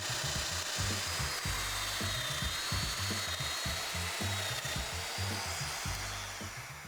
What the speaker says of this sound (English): So now I can get this clamp down and do the mortises on the top of the center divider.